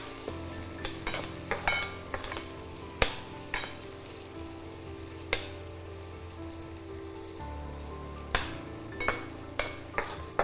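Capsicum being sautéed in a pan, with a low steady sizzle under a run of sharp spatula clicks and scrapes against the pan, some bunched together and others spaced out, close and fairly quiet.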